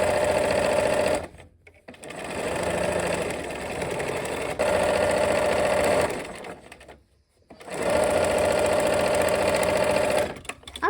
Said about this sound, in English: we are gonna sew our last seam here